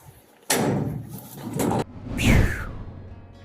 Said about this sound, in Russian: Да, дверь открылась.